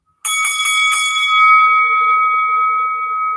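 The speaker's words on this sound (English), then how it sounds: "we're going to hit that opening bell" A wrestling opening bell rings in a quick flurry of bright, close metallic strikes, then hangs in a long, loud, fading ring with no voices over it.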